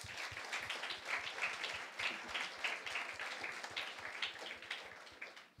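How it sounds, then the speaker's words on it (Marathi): A church congregation applauds married sisters during a Sunday sermon, a soft, steady wash of many hands clapping with a faint rhythmic pulse underneath, fading slightly at the close. "म्हणून सर्व विवाहित बहिणींबद्दल एकदा टाळ्या वाजवूयात"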